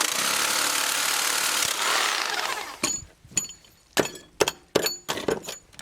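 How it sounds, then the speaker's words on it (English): A 1 1/4-inch drill bit bores a hole through an exterior wall for a frost-free wall hydrant, producing a loud continuous grinding roar for about three seconds, followed by a series of sharp knocks and scraping impacts. "I'm using a 1 1/4-inch drill bit to accommodate the new valve."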